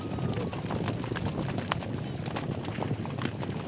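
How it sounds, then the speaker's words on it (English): Hoofbeats of a herd of horses galloping out to their overnight pasture on a Wild West ranch, a steady rumbling clatter of many hooves, fairly close and continuous throughout. "Quitting time for the horses. And they put on the thrilling show as they head out for their overnight pasture,"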